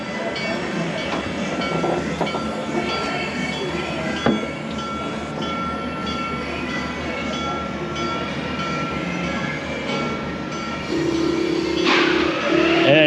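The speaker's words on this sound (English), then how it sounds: "I hear a train." A train rumbles and clatters steadily through a Christmas town attraction, loud and nearby, with a continuous rolling wash of rail noise that swells slightly near the end.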